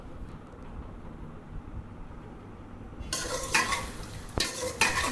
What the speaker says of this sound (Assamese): লৰাই লৰাই মই ভাজি থাকিম এইখিনি।